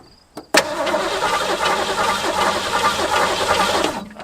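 A rusty barn-find Ford Mustang with a Holley two-barrel carburetor, its fuel system running from a jar, cranks and then catches, running roughly and loudly. A brief click comes first, then a steady engine roar for about three and a half seconds before it cuts off.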